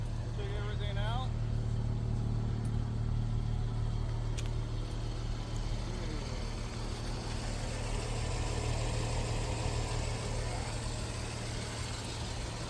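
A Jaguar F-Type engine idles with a steady low hum and a strong tonal drone, heard close up in the engine bay with faint squeaks over it and someone talking intermittently.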